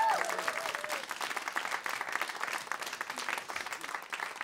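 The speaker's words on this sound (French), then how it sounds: "Vous pouvez applaudir Cheyane encore une fois" An audience applauds performer Cheyane at a Christmas stage show, with dense, lively clapping throughout and a brief voice at the start.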